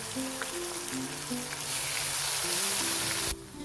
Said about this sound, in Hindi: अब इसमें शामिल करते हैं अदरक और लहसुन की पेस्ट, और इसको हम तब तक बुनाई करेंगे जब तक अदरक लहसुन का कच्चापन खत्म ना हो जाए।